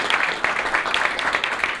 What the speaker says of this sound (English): Give Gianna a round of applause.